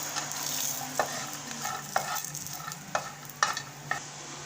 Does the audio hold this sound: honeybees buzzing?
no